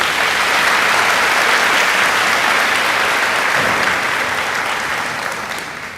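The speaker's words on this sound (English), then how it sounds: "Please give all stage guests a round of applause." Dense, steady applause from a large audience for stage guests at a high school graduation ceremony, loud and continuous throughout before gradually tapering off at the end.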